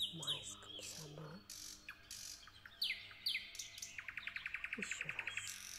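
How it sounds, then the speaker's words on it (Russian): Birds sing in a garden in May, with varied chirps, swooping whistles and a fast repeated trill, fairly close and clear over a quiet background. "слушая пение птиц в нашем майском саду"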